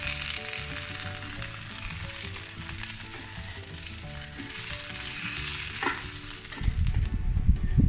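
Pieces of croaker fish (koddai) fry in hot oil in a pan for a Mangalorean-style South Indian fish fry, giving a steady, dense sizzle throughout with a louder, bubbling crackle near the end.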